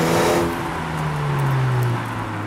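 A Mini's engine and exhaust drone loudly from inside the car while driving, a steady mid-rev pitch that sags slightly, no talk over it.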